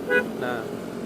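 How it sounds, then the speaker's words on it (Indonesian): An added aftermarket horn on a Polytron Fox 500 electric motorcycle gives two short, close toots in quick succession, with faint background noise around them. "Terus juga ada tambahan klakson."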